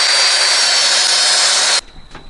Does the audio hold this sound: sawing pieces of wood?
yes